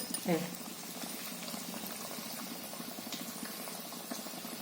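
Cabbage bhaji pieces deep-frying in hot oil, making a continuous low bubbling and gurgling that runs throughout, with a brief voice-like sound near the start.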